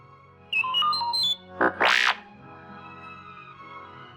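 An R2-D2 droid chirps a quick run of electronic beeps and warbles, then gives a short rising-and-falling whistle before fading to quiet hum.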